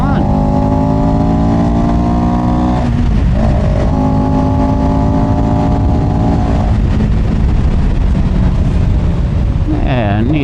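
A small beginner motorcycle engine revs up through the gears while riding, its rising and falling harmonic whine loud and steady with a brief dip between pulls and wind noise throughout.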